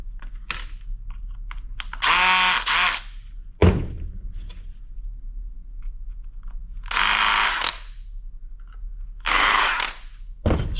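Power screwdriver backing screws out of an electronics board, several short buzzing whirs of a second or so each, separated by quiet gaps with small clicks and handling noises.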